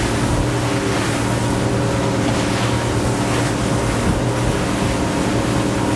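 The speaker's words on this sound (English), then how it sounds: "power the boat up a little bit" A 2021 Nimbus T9X motorboat powering through waves at speed, a loud continuous engine drone mixed with rushing water, hull slap and wind buffeting, with no talking.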